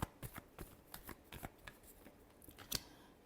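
Tarot cards are riffled and shuffled in quick, soft, papery bursts, close up and fairly quiet, with no voices.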